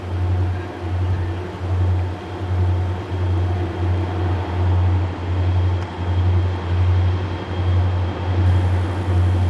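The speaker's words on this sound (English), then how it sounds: "Train 36A is a general freight." General freight train 36A with helper locomotives on the Gallitzin to Conemaugh Viaduct line in Pennsylvania, a loud, steady low rumble with a heavy rhythmic throb pulsing roughly twice a second, close by and continuous, with no voices.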